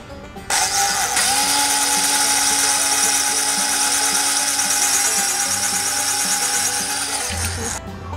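A power drill bores a hole in wood during a faux fireplace carpentry build, a loud steady whine running for about seven seconds before spinning down, close and alone.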